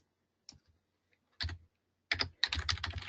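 Keys on a computer keyboard clatter in short, quiet bursts of typing, with brief pauses between groups of strokes in an otherwise silent room.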